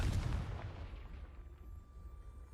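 A Confringo fire spell bursting in Hogwarts Legacy, one deep, booming blast at the start that rumbles and fades over a couple of seconds, heard alone with no talk.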